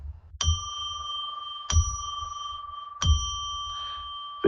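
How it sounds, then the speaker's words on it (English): A small bell is rung three times at a steady interval to open a tarot reading, each clear metallic strike ringing on with sustained tones, close and alone with no talk. "I will ring a bell now to declare sacred space"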